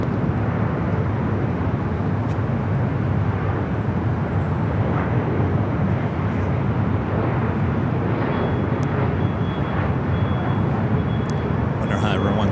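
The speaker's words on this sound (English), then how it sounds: "Alaska Airlines 444 coming in from Puerto Vallarta on the MAX 9 Seattle Kraken livery." An Alaska Airlines Boeing 737 MAX 9 in Seattle Kraken livery, arriving at LAX from Puerto Vallarta, roars steadily overhead with a loud, continuous broadband jet rumble that barely varies throughout.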